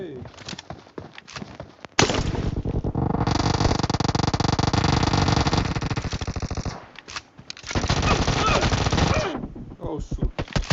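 Submachine gun sprays from an UZI and a Vector in a PUBG team deathmatch, long loud bursts of rapid automatic fire broken by short gaps, close and dominant.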